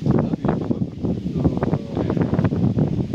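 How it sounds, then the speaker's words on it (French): Wind buffets the microphone in a steady, rumbling roar with gusty surges throughout, loud and close. "C'est le vent, tout ça"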